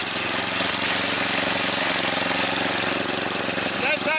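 A 22-year-old Craftsman 30-inch riding mower engine runs steadily and loud throughout as the transmission is shifted into reverse, with a faint change near the end suggesting the gear engaging.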